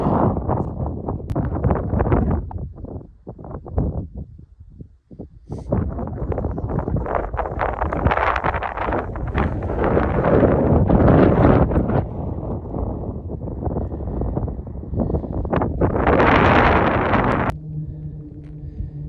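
Strong wind on top of Glen Pass, a mountain pass, buffets the microphone in steady gusts, loud rumbling and roaring throughout, with a brief lull partway through.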